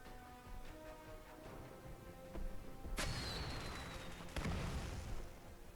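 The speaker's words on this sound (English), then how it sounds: "Another firework explodes in the sky, not far from here, casting its light on Ingrid's face" A firework bursts in the sky over a city festival in the game Arknights: a sharp crack with a whistling tail, then a second loud pop, heard fairly near against quiet ambient music.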